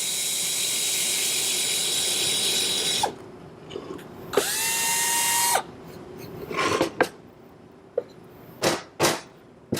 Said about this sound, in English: I wanted to re-drill those and make sure that it doesn't go through the wrong way